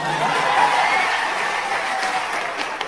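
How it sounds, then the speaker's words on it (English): Dense applause from a church congregation, a steady wash of many hands clapping close and loud throughout, with faint murmurs and light laughter mixed in. "You see how everybody's clapping for you?"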